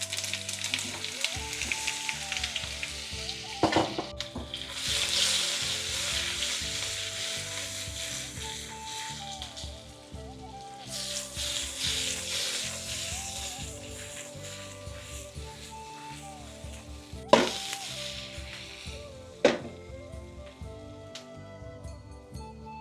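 Vegetable muthiya with black and white sesame seeds sizzle steadily in oil, a dense rain-like crackle that runs throughout, broken by a few sharp clanks of a utensil against the pan.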